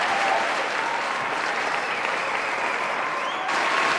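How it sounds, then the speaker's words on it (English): Sustained applause from a large audience, steady and loud for the whole stretch, dense clapping with no pauses. "You don't need to applaud more."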